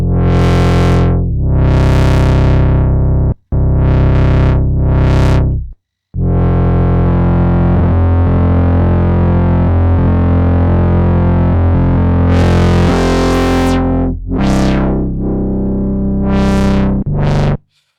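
A gritty, driven Moog Messenger analog monophonic synth line plays alone in loud sustained notes and short stabs, its tone growling with filter-drive distortion as the filter sweeps open and closed.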